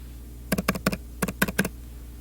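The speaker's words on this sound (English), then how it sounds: "Then type in your OFE file number instead." Computer keyboard keys tapped in two quick bursts of about four and three strokes, close and crisp over a quiet background.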